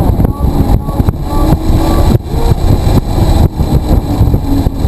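A Nissan GT-R engine roars steadily and loudly on the Blackhawk Farms Raceway track as the throttle rolls on, with a rough, pulsing rumble that rises and dips, and voices faintly audible under the noise.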